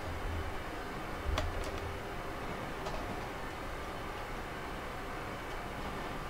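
A train running in Train Simulator 2019, heard as a steady, quiet low rumble of rolling wheels with a few sharp clicks and clanks early on and no talking.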